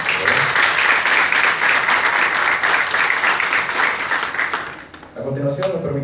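Audience applause fills a school Father's Day festival with a rondalla ensemble, dense steady clapping for about five seconds before fading, followed by a voice speaking over a quieter room.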